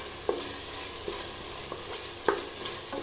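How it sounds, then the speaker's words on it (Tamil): Onion, tomato, ginger garlic paste and masala fry in oil for a mutton pepper gravy, making a low, steady sizzle broken by a few brief stirring clicks and scrapes. "இந்த மசாலாலாம் நல்லா வதங்கி வந்துடுச்சு"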